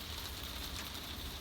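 Rain beginning to fall on a Hymer 584 A-class motorhome, a steady soft patter and hiss on the roof, even and continuous throughout.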